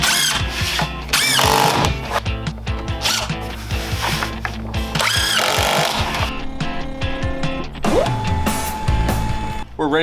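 A CNC router cuts wood on a roughing pass in loud, whining bursts with shifting pitch and grinding, motor-driven sweeps, steady and close throughout.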